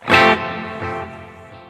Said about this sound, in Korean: 이런 메아리를 딜레이라 그래.